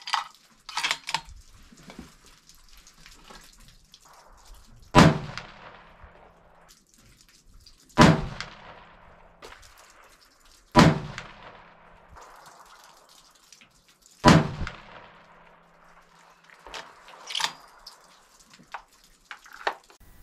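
A 6.5 PRC rifle, a Seekins Precision Havak HI, fires a four-shot group at the range. Four sharp reports come about three seconds apart, with lighter clicks and taps between and after them.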